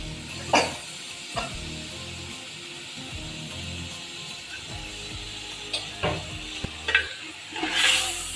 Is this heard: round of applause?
no